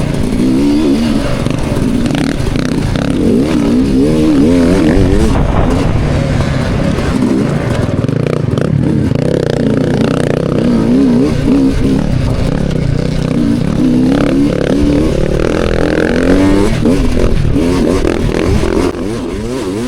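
Dirt bike in a hare scramble race, its engine loud and close throughout with constant revving, gear changes and rising and falling pitch, a second bike audible nearby as riders pass one another on the trail.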